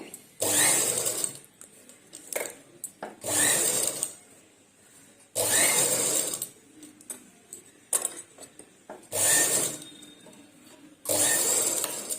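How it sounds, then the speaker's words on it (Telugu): A tailoring sewing machine runs edge stitches in five distinct loud bursts of a couple of seconds each, separated by brief pauses and small handling clicks, with no talking. "ఎడ్జ్ కుట్లు వేస్తున్నాను."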